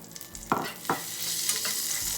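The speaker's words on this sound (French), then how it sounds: "Dans une casserole, je commence par faire chauffer mon beurre" Butter heats and sizzles softly in a saucepan, with two quick scraping knocks of a utensil near the start and a steady low hiss throughout.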